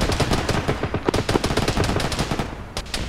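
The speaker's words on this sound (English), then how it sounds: "Sounds like our Reaper's engaged to the southwest." Rapid, dense gunfire attributed to an MQ-9 Reaper drone engaging targets to the southwest, a continuous loud chattering stream of shots with a short break near the end.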